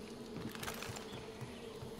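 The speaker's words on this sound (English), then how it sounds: "Bloody hell, there's a bee's nest." A bee's nest in the Far Cry 5 video game gives off a continuous buzzing swarm drone, steady and moderately close, with no voices over it.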